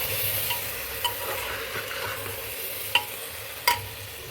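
Masala rice being stirred in a pot with soaked rice, a steady soft cooking hiss with a few sharp scraping clicks of the spoon near the end, close and alone without voices.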